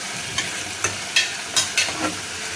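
Potatoes and tomatoes being sautéed in a pan with cumin tempering for a panipuri filling, giving a soft steady sizzle with several short scraping stir strokes, close and fairly quiet, with no talk.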